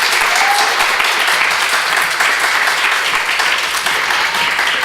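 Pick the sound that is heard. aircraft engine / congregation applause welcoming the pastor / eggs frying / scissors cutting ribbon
congregation applause welcoming the pastor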